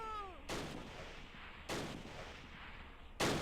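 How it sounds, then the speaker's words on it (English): Mortar blasts and gunfire in the WWII strategy game Close Combat Last Stand Arnhem: three heavy booming explosions spaced about a second apart, each followed by a rumbling decay, after a brief whistling tone at the start. "Close fire with that mortar is very dangerous"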